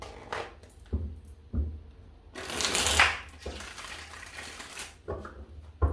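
Several bursts of tarot cards being shuffled close by, riffles and soft slaps separated by brief pauses, one longer rippling shuffle in the middle.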